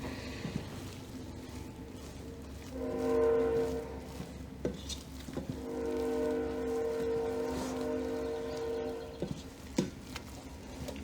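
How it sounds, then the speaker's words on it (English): A train rolling past on tracks just beyond a backyard, heard at a distance as a sustained horn-like tonal drone that swells twice, with faint patter and small clicks nearby. "Apparently a train's going by right now."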